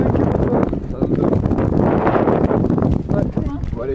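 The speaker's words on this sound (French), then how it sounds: "il y a un vent impressionnant" Strong wind buffets the microphone on a hiking trail, a loud continuous rumbling roar with gusty surges throughout.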